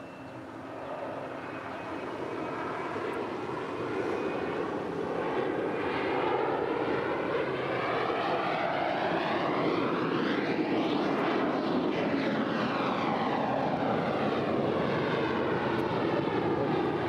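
A JetBlue Airbus A321 jet takes off at LAX. A broad engine roar builds and holds loud and steady, with a sweeping whine as the aircraft passes, and no talking.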